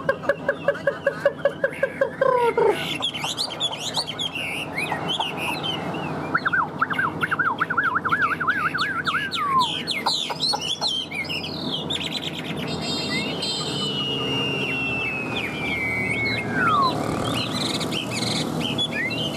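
A caged hwamei songbird sings loudly and continuously, with rapid varied whistles, trills and sweeping slurred phrases filling the whole stretch, close to the listener.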